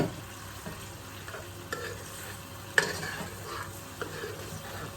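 A pot of bitter leaf stew with lamb and turkey simmers on the stove, giving a soft steady bubbling sizzle with a few faint clinks and stirring knocks, quiet and close, with no voices.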